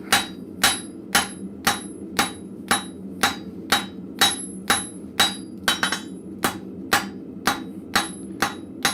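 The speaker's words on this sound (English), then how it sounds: "So I'm trying as hard as I can not to whack my anvil." Steady ringing hammer blows on an anvil in a blacksmith shop, a forge worker striking scrap metal roughly every half second, about fifteen sharp metallic strikes with bright ring, close and loud, no talking.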